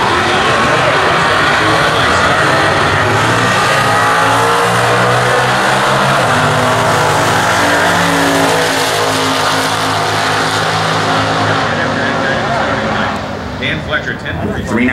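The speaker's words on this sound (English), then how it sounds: "Let's watch Tim wind up that 283 and step off the clutch" A 1969 Stock Eliminator drag car with a 283 engine launches at the US Nationals, its loud engine roaring and winding up steadily over several seconds as a commentator talks over it.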